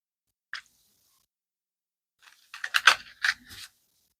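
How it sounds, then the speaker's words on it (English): Tarot cards being shuffled by hand: a single soft snap, a pause, then a quick cluster of papery riffles and slaps, close and fairly quiet against a silent room. "one more shuffle"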